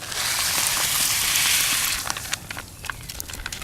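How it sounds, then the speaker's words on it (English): Water in a pot nearing a boil at a campsite, a steady loud hissing roar that fades after two seconds into scattered crackling bubbles and pops. "we're getting right near a boil"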